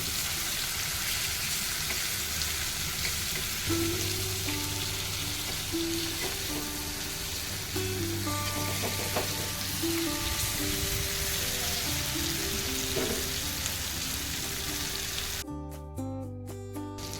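Pieces of baby shark coated with tamarind paste fry crisp in a pan, giving a steady, even sizzle throughout, with faint background music underneath.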